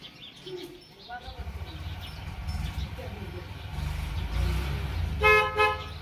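A car horn toots near the end, with engine rumble, birds chirping and people talking in the background.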